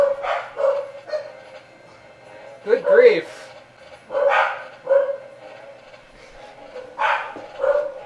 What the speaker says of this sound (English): you get a dog symphony in your Shadows of the Empire video today